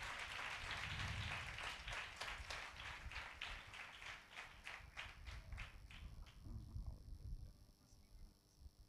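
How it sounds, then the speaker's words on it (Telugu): A church congregation claps in a steady, rapid rhythm that keeps on for several seconds, then slows and thins into a few scattered claps. The clapping is fairly quiet in the room. "మరొకసారి బిక్కిరిగా చప్పట్లు కొట్టి గణపరుస్తాం"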